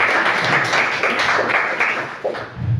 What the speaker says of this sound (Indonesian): Tepuk tangan dong buat Mutia.